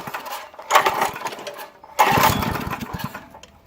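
A small engine in neutral is revved twice, each rev a rough, loud surge in pitch that settles back toward a lumpy idle, heard close with no talk.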